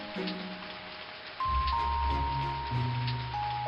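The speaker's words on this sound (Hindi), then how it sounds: "वो बारिश से बचने के लिए दौड़कर किशोरी के ढाबे में आता है।" Rain falling outside a roadside dhaba in an Indian comedy story, a steady hiss of drops under tonal background music that swells partway through, with no speech.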